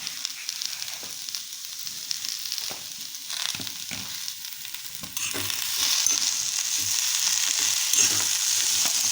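Local cluster beans (gavar) dry-roasting in a hot pan, a steady close sizzle and crackle with occasional stirring scrapes, growing louder midway through.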